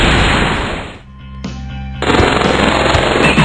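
Tank guns firing in the video game Epic Battle Fantasy 4, a dense loud burst of rapid gunfire with booming low end that drops briefly to a thin tonal gap, then resumes at full volume.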